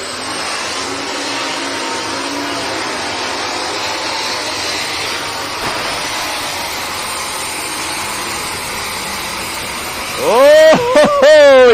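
A Case International MX 335 super stock pulling tractor with a 903 Cummins engine roars loudly and steadily, then surges into a sharp rising rev near the end.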